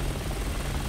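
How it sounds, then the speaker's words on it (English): Helicopter in the video game Resident Evil 6, a steady, loud, close rotor drone filling the whole moment. "The helicopter is right there."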